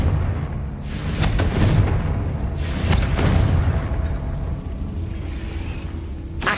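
Blasting fire spell bursts in the Hogwarts Legacy video game, heavy booming explosions with broadband rumble, several loud blasts spaced a second or two apart over continuous low roar, no talking.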